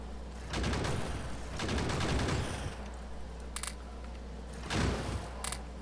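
Rapid bursts of gunfire from the Factorio player's weapon rattle against enemy nests, two or three dense volleys of quick shots at moderate volume over a low steady hum, with a couple of brief sharp clicks between.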